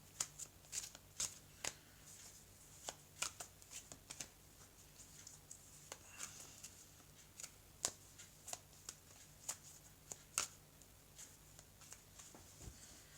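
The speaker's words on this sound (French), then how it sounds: "Alors, je vais couper et je vais donc recouvrir les cartes." Oracle cards are shuffled and cut by hand, producing a steady series of soft, sharp flicks and riffles close to the microphone, quiet overall and with no talking.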